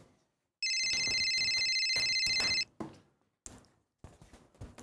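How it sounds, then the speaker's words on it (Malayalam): A telephone ringing in a home sitcom scene, a bright electronic ring lasting about two seconds, close and clear, followed by a few short knocks and handling sounds in otherwise quiet surroundings. "മക്കൾ പോയി ആ ഫോണിൽ എടുത്തോണ്ട് പോവാ."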